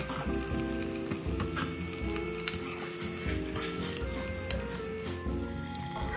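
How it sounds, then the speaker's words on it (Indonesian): Sliced shallots sizzle steadily in a hot pan as they are sautéed for a quick pre-dawn meal, a continuous close frying crackle with no voices. "Yang pertama saya mau tumis untuk bawang merah irisnya tadi."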